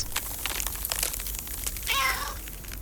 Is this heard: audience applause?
no